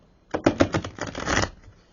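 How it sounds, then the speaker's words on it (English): A deck of playing cards being shuffled by hand gives a quick, close flurry of rapid papery clicks and flutters lasting about a second, with no talk. "I am having a hard time shuffling these"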